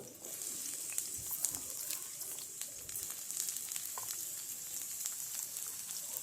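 Small-cut onions fry in mustard oil in a wok, producing a faint, steady sizzle with light crackles and occasional soft stirring noises.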